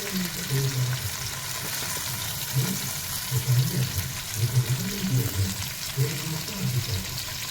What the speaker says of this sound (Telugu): పచ్చిమిర్చి బాగా ఫ్రై అయిన తర్వాత వెంటనే మనం ఆల్రెడీ కట్ చేసి పెట్టుకున్న ఒక ఉల్లిపాయని వేసుకొని ఉల్లిపాయని కూడా బాగా ఫ్రై చేసుకోవాలి